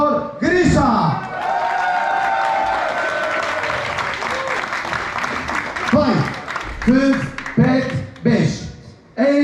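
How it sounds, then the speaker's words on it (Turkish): Audience at a Miss Paradiso beauty pageant in a hotel club in Alanya applauding, steady dense clapping with a few whoops, while a presenter speaks over it near the start and end. "Biggest applause, applaudissements, alkış for Grisha"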